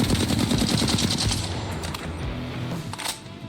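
A Flatline assault rifle in Apex Legends fires in a rapid, sustained automatic burst of loud, closely spaced shots that tapers off at the end.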